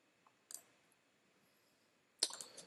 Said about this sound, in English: Let's click on result to download the result file.